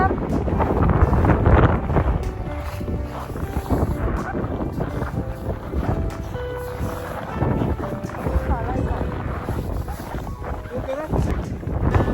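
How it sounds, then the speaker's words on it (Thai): Strong wind blowing across a cold mountain (Deogyusan) buffets the microphone in a steady, loud roar with gusting surges throughout, while people talk faintly underneath. "ลมพัด"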